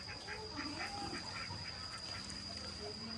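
Several laying ducks, males and females, quack in short bursts at close range, with steady background noise and voices talking underneath.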